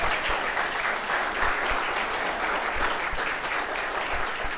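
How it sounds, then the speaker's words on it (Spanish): A church congregation claps together during a Spanish-language sermon, giving a dense, even applause that carries on steadily and fairly loud for several seconds. "Dele un aplauso al Señor."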